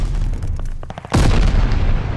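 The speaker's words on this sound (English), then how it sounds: "Tossing grenade." A grenade explosion in Call of Duty: Vanguard on the Gavutu map bursts out loud and close after a stretch of scattered gunfire, leaving a rumbling decay.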